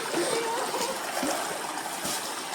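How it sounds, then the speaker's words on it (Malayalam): Water splashing and trickling in a stream as a basket holding stones is washed, a steady close wash of flowing water with scattered splashes, no speech over it. "തോട്ടിൽ വന്ന് കഴുകിയാൽ മാത്രമേ ആ ട്രഡീഷണൽ ലുക്ക് കിട്ടുകയുള്ളൂ എന്ന് പറഞ്ഞുകൊണ്ട് തലയിൽ തൊപ്പിയിട്ട് വന്ന് കൊട്ടയ്ക്കകത്ത് കല്ലിട്ട് കഴുകുകയാണ് ഗൈസ്"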